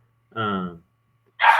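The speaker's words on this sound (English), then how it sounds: "Sorry about my dog." A dog barks twice at home during a fantasy football discussion, two separate short barks, close and fairly loud, with a quiet gap between them.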